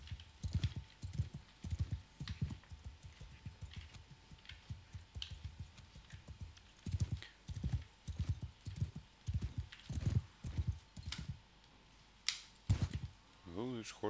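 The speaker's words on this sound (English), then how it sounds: "Oh, this horse jumps high." Horse hooves clip-clop steadily through a pastoral village in the video game Mount & Blade II: Bannerlord, a rhythmic run of close, distinct impacts with someone talking over parts of it.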